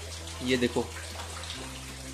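Steady rain falls in a continuous hissing wash throughout, with someone speaking briefly over it near the start.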